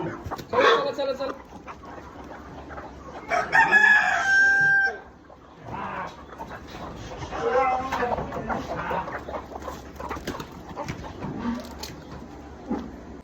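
Chickens and a rooster in a coop: a rooster crows loudly and close, with hens clucking around it and people talking nearby.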